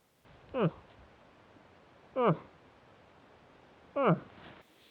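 Three short, nasal wavering calls from a human voice imitating a cow moose, evenly spaced and fairly faint over quiet background hiss.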